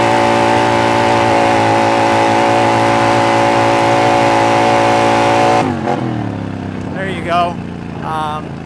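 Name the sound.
motorcycle engine held wide open at high RPM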